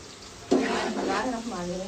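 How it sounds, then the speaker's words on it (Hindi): A sudden burst of sizzling as okra hits hot ghee, continuing as a steady crackling fry with some voiced sound mixed in. "इतनी गर्म हुआ है, भिंडियाँ तड़कार लगा दिया है।"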